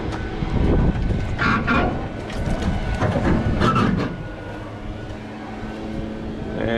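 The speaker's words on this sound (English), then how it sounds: "my service truck kind of hounding in the background there" A 2019 Peterbilt 337 service truck with a 6.7 Cummins diesel idles nearby, a steady low rumbling drone that stays constant throughout, with some rattling and scuffing noise on top in the first few seconds.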